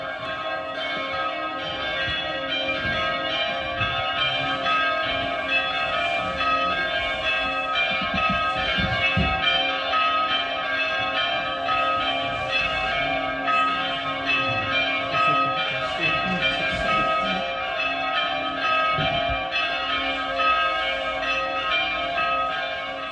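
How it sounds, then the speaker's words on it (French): Three church bells ringing together in a full, continuous peal, with an untuned clash caused by the largest bell, steady and resonant throughout with no voices. "Un rendu de la volée des trois cloches."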